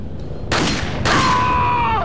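Two sharp, loud gunshots about half a second apart, each ringing out with a long tonal tail, fired in the Resident Evil 4 rail shooter.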